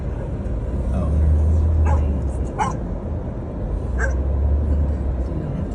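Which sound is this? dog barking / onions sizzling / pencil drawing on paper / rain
dog barking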